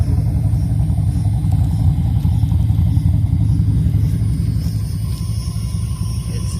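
Supercharged Ford Mustang Foxbody with an aggressive cam idling at around 850 RPM, a loud, close, lumpy low rumble that stays steady throughout.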